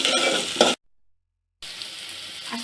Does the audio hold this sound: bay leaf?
yes